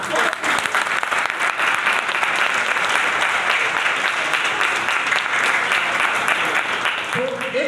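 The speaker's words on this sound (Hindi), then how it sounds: "इनके लिए एक जोरदार तालियों के साथ" Dense, steady applause from a seminar audience in Dehradun, many hands clapping close and loud for the whole stretch, with no pause, and a voice coming in briefly near the end.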